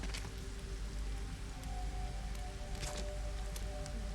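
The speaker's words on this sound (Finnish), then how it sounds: "Täällä sataa." Steady rainfall patters in the Lego Fortnite video game, a soft continuous hiss of drops with scattered brighter ticks, faint and even throughout, with no voices.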